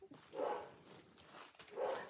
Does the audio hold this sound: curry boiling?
no